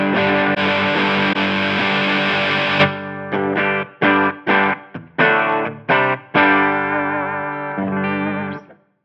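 Distorted electric guitar played through a Line 6 Helix modelling the Bogner Shiva amp, a long sustained chord followed by a run of short, choppy stabbed chords, ending on a held ring that fades out.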